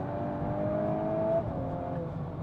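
A Revo Stage 2 tuned VW Mk8 Golf R accelerates hard, its engine note steady and loud with a rising tone that holds, then shifts near the end, heard from inside the car without talk.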